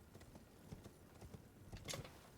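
A horse's hooves clop unevenly as it scrambles up a rock in the video game Elden Ring, a faint run of irregular hoof strikes with one sharper burst near the end.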